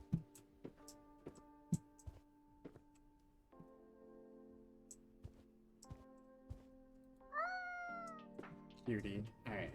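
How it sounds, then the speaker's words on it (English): A cat in the Spirit Landlord Simulator video game meows a few times near the end, rising and falling cries over quiet ticking game sounds and soft clicks, with a voice talking at moments. "Where's my cat? I need to pet him."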